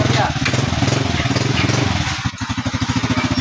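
A Kawasaki Barako 2 motorcycle engine runs steadily during a test drive at a repair shop after an electrical fault, loud and close, its putter growing more distinctly pulsed toward the end.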